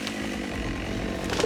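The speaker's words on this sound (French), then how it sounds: "Les ouvriers forestiers travaillent avec des tronçonneuses toujours plus performantes." A forestry worker's high-performance chainsaw runs with a steady buzzing drone, fairly close and continuous, alone without talk.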